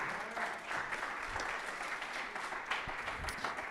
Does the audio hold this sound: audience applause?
yes